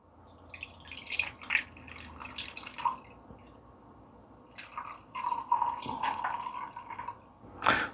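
Purified water poured into a container for mixing Crystal FX paint: a thin trickling, dripping stream with a steadier pour near the middle, moderately close and fairly quiet, with a few small clinks.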